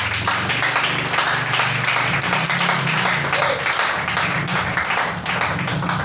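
A church congregation applauding, dense sustained clapping from many hands filling the room, steady and loud throughout.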